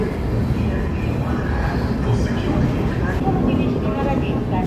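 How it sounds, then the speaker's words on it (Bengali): A passenger train on the Kolkata to Tatanagar route, heard from inside a carriage as it pulls away from a station stop at night: a loud, continuous low rumble and rattle of the wheels and coach, steady for several seconds. "ওই 2 থেকে 3 মিনিট মতো দাঁড়িয়ে আবার আমাদের ট্রেন ছাড়লো।"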